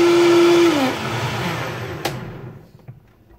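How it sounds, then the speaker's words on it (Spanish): A powerful kitchen blender run at low speed, whirring with a steady motor tone that drops in pitch as it winds down, leaving a fading rattle. "Vamos a empezar licuando despacito y después aumentamos la velocidad para que no se dañe la"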